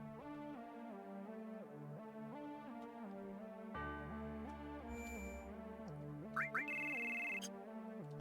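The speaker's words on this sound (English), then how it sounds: "So weird to hear that phone sound." A phone in the video game Final Fantasy VII rings as a quiet electronic ringtone of repeating stepped melodic tones, joined midway by a low hum and brief high synthetic beeps.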